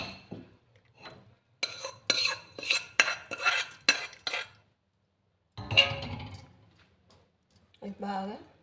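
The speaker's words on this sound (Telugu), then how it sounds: "ఇది బాగా కలిగి పెట్టుకొని" A spoon stirs homemade tomato pickle in a bowl, scraping and clinking in bursts between stretches of someone talking.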